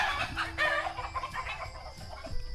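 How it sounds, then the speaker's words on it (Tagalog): Chickens on a farm beside a corn field cluck busily in close, overlapping bursts, a steady flock chatter with no talk over it. "Yan, mga birds."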